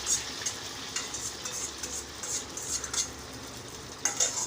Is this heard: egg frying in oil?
yes